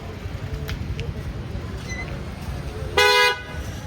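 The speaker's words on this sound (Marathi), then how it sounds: "चला आली रिक्षा." An auto rickshaw's horn gives one short, loud toot near the end, over a low motor rumble and street background.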